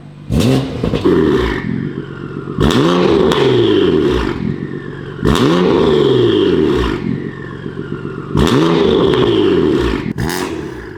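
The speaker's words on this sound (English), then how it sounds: "The turbo noise is crazy." A BMW F80 M3 with an S55 engine and a Valvetronic Designs equal length exhaust revved hard four times in a row, loud and close, each rev climbing with a whooshing turbo whine before dropping back.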